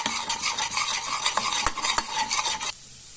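Gram flour and onions being stirred and roasted in a pan, with steady scraping strokes and a soft sizzle that stop abruptly near the end, leaving quiet.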